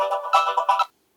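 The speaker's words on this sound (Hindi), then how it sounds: "हमारा एक कॉल आ गया है।" A telephone rings with an incoming call to a community radio show in Azamgarh, India, a short bright electronic ringtone burst of several pulses that cuts off abruptly into silence.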